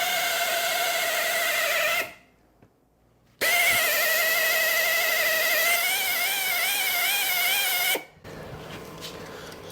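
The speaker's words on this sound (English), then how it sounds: "So we'll just give them all a light hone." A Cosworth YB engine block having its cylinder bores honed with hone oil, a loud whirring tool drone that wavers in pitch, stops briefly, restarts, then drops to a quieter hum near the end.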